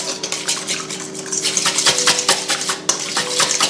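Melted chocolate being stirred in a bowl over a bain-marie, with a utensil repeatedly scraping and clinking against the dish in a steady, close rhythm with no talking.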